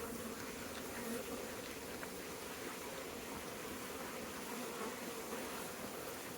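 Honey bees swarm over brood frames in an open double-deep hive, making a dense, steady buzzing hum that stays close and even throughout with no talk.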